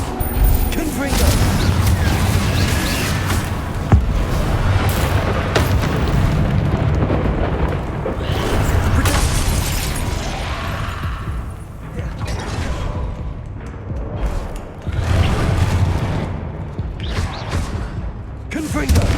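Repeated Confringo blasting-spell explosions in the wizarding game Hogwarts Legacy, booming bursts arriving one after another through a busy, loud combat mix with spoken incantations over them.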